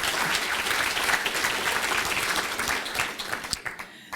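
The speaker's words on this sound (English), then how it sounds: "give ourselves a big round of applause for this" A school audience applauds at an education address, with steady, dense clapping that holds for several seconds and then thins into scattered final claps.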